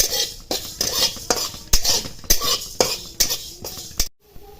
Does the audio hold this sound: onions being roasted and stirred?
yes